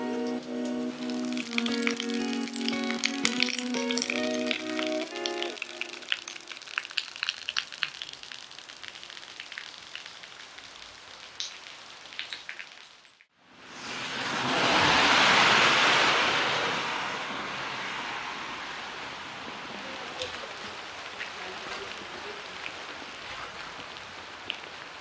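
Heavy, pouring rain falls during a walk toward a spoil heap near Gladbeck, a dense, hissing wash that swells loud partway through and stays steady to the end.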